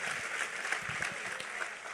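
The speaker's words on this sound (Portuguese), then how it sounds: "Aplauda aí," A church audience applauds briefly in a quiet, somewhat distant spatter of clapping, with a low murmur of voices beneath it.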